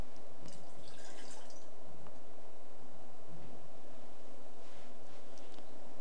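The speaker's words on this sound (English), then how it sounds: "And now she's going to discard the hot water in the water receptacles." During a Japanese tea ceremony, hot water is emptied from a tea bowl into a waste water receptacle, giving soft, close splashing and dribbling with a brighter pour near the start and another near the end.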